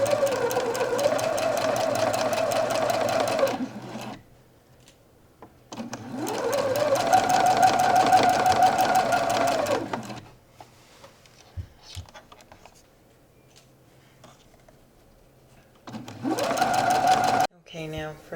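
A sewing machine hemming the pinned side of a shirt runs in three loud, steady bursts of rapid stitching, separated by quieter pauses with faint handling noises.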